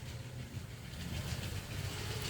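A toy metro train runs around a lit home festival decoration model of Pune streets. It makes a faint, continuous low rumble and whir with a soft rattling texture, steady and unbroken, with no voices.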